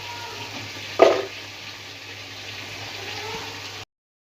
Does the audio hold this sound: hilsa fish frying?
yes